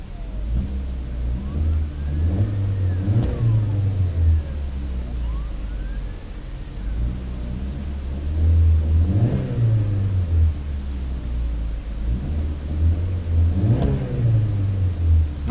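A Mitsubishi Lancer engine is revved repeatedly, its pitch rising and falling in three or four waves over a steady loud idle, close and continuous with no talking.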